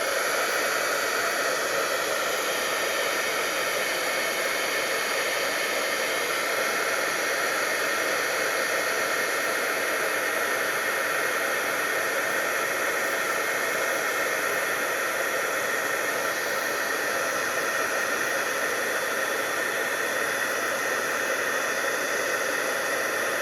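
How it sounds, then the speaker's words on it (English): A heat tool blows a steady, loud hiss of hot air without pause while a Halloween card is heat set, and no one speaks. "we're just going to heat set that."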